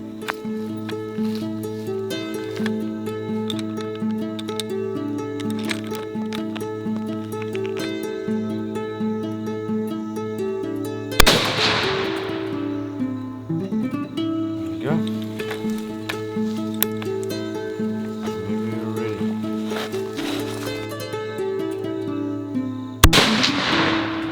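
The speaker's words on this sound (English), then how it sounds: "The gun's shooting right." Two sharp, loud rifle shots ring out about twelve seconds apart during a hunt in Niassa, over a steady droning background with people talking.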